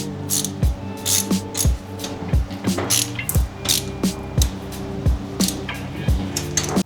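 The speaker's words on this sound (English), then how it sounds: "I'm just gonna torque it down in like a crisscross pattern just to make sure it goes, or it sits up against the head evenly." Ratchet clicking in repeated bursts as exhaust manifold bolts for a turbo are torqued down in a crisscross pattern on a Mitsubishi Lancer EVO 8, close and loud with brief pauses between strokes.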